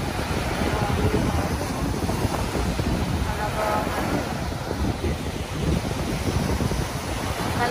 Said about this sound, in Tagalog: nananaig ang ang lakas ng alon